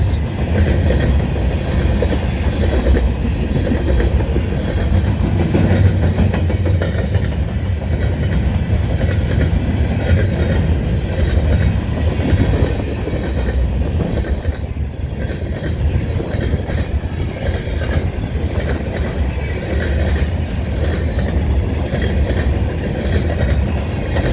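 CN freight train rolling past East Townline Road in Newtonville, Ontario, a loud, steady rumble with continuous clickety-clack of wheels over rail joints, close by and unbroken by any talk.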